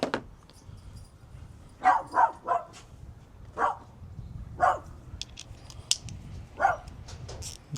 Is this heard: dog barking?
yes